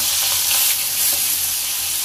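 Hot oil sizzles and fries steadily in a pan in a home kitchen, a loud, continuous crackling hiss with no talk.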